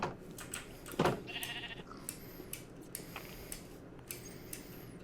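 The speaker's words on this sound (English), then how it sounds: "Ah, the sheep. A noble beast." In a video game, a sheep lets out a single short bleat near the start, faint and fairly close, among light clicks and small game sounds. No talking.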